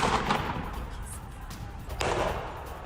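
Rapid gunfire aimed at protesters in Iran rings out in a news broadcast, with dense bursts of cracking shots at the start and again near the end over a steady noisy background.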